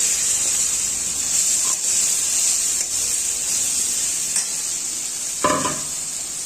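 Bottle gourd curry with a pinch of sugar sizzles steadily in a hot pan of oil and spices, with a few scraping stirs and a louder clatter of the spatula near the end.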